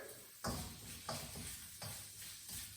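Fried rice with carrots being stirred in a hot pan, a steady sizzle broken by four regular scraping turns of the spatula, close and fairly quiet.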